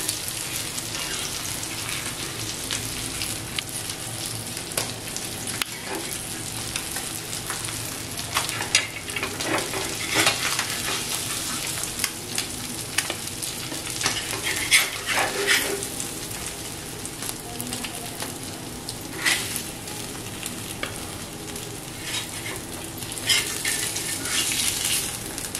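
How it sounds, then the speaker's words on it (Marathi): Karli fish frying in oil in a pan, a steady, rain-like sizzle that holds throughout at moderate volume with occasional faint pan clinks, no talking. "5 मिनिटात आपली मच्छी तयार होईल"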